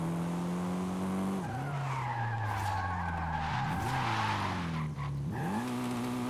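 Tires squeal in long rising and falling skids while a car drifts in Forza Horizon 5, with engine noise underneath throughout.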